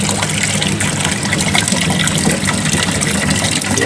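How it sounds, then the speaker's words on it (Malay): Water draining out of a full tank on a flowmeter measurement apparatus in a fluid mechanics lab, a steady close trickling and gushing flow that runs continuously and fairly loud throughout, with no talk over it. "So kita buang dulu air."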